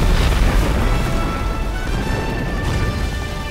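Explosions from an M4 Sherman Calliope rocket launcher and an M26 Pershing tank in Company of Heroes: a dense, continuous rumble of booms and blasts fills the battlefield, loud and steady throughout, with no voices.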